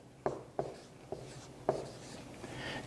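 A pen or marker writes chemical element symbols on a surface in a few quick strokes, short scratchy contacts heard close up and quiet, with no talking.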